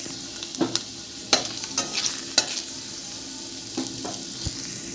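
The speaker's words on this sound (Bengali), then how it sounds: "বেগুন ভাজার তেলেই প্রথমে রসুনটা ভেজে নেব" Garlic frying in oil left over from frying aubergine, a steady low sizzle over a gentle flame, with scattered clinks of a spatula against the pan and no talking.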